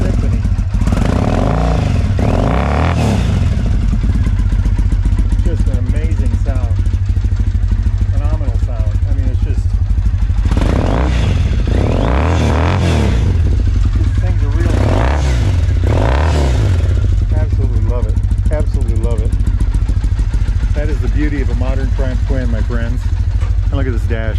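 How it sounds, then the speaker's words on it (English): Engine of a 1965 Triumph TR5 motorcycle running through British standard exhaust pipes, a steady close rumble with swells of revving throughout, with someone talking over it much of the time. "Listen to that. Can you all hear that? Just a beautiful, I think it's British standard pipes."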